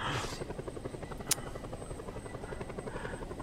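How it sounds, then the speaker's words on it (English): A helicopter in Just Cause 2 drones steadily with a fast, even rotor thump throughout, loud and close, with a brief sharp click midway. "I can even land the helicopter."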